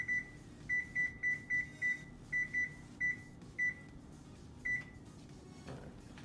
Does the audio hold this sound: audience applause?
no